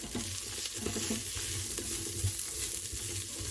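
Cauliflower fries in a little oil in an Instant Pot, a steady close sizzle with occasional stirring scrapes throughout.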